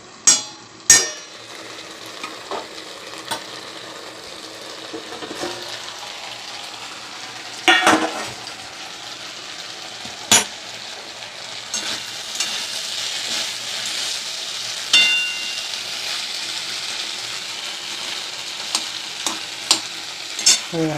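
Curry sizzles and fries in a pan while a spoon stirs it for a home-cooked meal. A steady frying hiss runs throughout, broken by scattered sharp scrapes and clinks of the utensil against the pan, with no talking.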